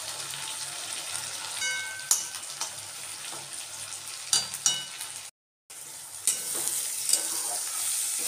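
Shredded cabbage stir-fries in oil, a moderate steady sizzle punctuated by sharp clicks and clatters of a utensil, briefly cutting to silence midway before the frying resumes.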